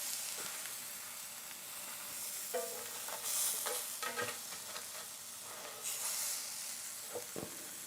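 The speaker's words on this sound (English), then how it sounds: "Be careful, of course, turning things in a hot pan." A sandwich fries in a hot pan with a steady close sizzle, broken by a few scraping clicks and soft knocks as it is turned over.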